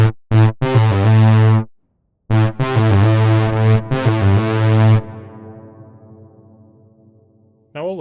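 The Addivox synthesizer plays bright, harmonically rich tones in short stabs and a longer phrase, then a final note decays through a long reverb tail before another note begins.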